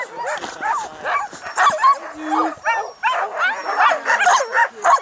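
Sled dogs at a dog sledding outing bark, yip and whimper excitedly close by in a rapid, overlapping chorus, with people talking among the noise.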